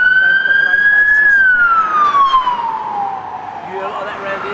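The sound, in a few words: police sirens in Canning Town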